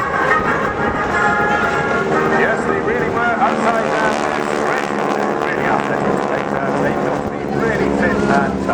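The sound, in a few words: Tucano aircraft flying an aerobatic display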